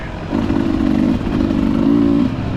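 A Beta 300RR two-stroke dirt bike engine revs on a trail, a loud, close, buzzing drone that climbs and holds in two sustained pulls with a short dip between.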